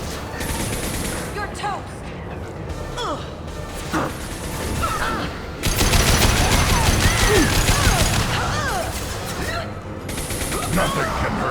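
Rapid bursts of weapon fire and crashing impacts in a Mass Effect 2 firefight on Insanity difficulty, loud and dense throughout, swelling midway, with a voice shouting over the battle.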